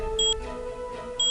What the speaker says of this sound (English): So, lovely beeping sound.